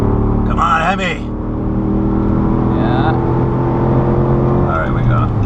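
A 2011 Dodge Ram 1500 pickup with a HEMI engine accelerates hard past an 18-wheeler, giving a steady loud engine drone throughout. Voices speak over it in short bursts.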